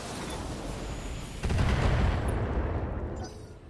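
Heavy mech weapons discharge in a precision strike in Battletech, a sudden loud volley of blasts rolling into a sustained rumble that slowly fades.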